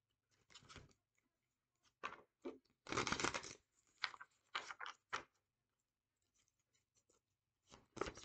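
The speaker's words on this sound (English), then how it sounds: "I'm going to shuffle again." Quiet, intermittent riffling and slapping of tarot cards being shuffled in several short bursts separated by pauses.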